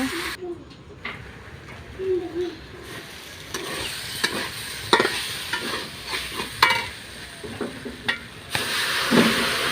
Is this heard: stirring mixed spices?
yes